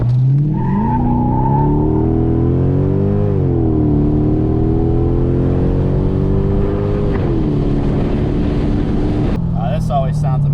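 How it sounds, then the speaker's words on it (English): Mercedes W210 E55 AMG with a straight-pipe exhaust, muffler and resonator deleted, droning loudly from inside the cabin while driving, its deep tone rising and falling with engine revs over about ten seconds before a brief shift near the end. "And here's some of the sound while driving from the interior."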